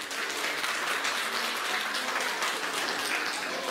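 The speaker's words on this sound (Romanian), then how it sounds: "Să-i aplaudăm!" Audience applause at a village folk concert in Pătrăuții de Sus, greeting young soloists from a folk art school in Cernăuți; a steady, dense wash of clapping fills the hall without a break.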